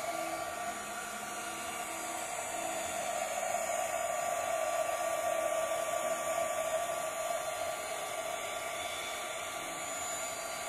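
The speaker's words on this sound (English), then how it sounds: "And with the heat gun," A heat gun blows hot air while making mushroom gnome candle holders, a loud constant whooshing roar with a high whine, close and uninterrupted throughout.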